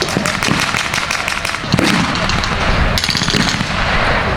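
Dense, rapid bursts of blank-fired gunfire at an outdoor WWII battle reenactment in a main field in Rockford, Illinois, including a Thompson submachine gun, crackling continuously with overlapping shots near and far.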